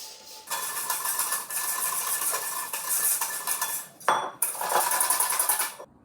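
Challah bread sponge whisked by hand in a bowl, a fast continuous rattling of wire whisk against the bowl that pauses briefly near the end, then resumes, without talking.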